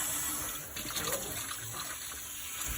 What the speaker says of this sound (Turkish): Pişti makarnamız. Üzerine soğuk su dolandırıyoruz